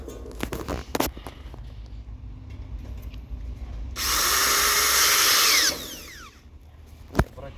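A cordless screwdriver drives a self-tapping screw into Novatik Metal Slate modular metal roof tile, a loud steady whine lasting under two seconds that winds down, framed by clicks, knocks and handling of the sheet metal.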